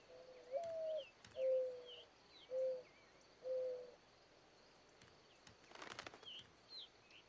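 A male dove sings his courtship song, four short mellow hooting coos spaced evenly over the first few seconds, with faint chirps of other birds and a rustling burst in the background.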